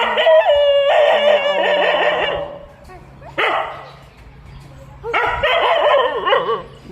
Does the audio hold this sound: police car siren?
no